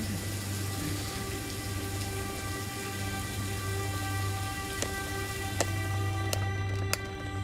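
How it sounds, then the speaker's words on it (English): Rain falling during a wilderness survival night up a tree, a steady broadband patter with a few louder, distinct drops near the end and no talk. "It's actually now raining."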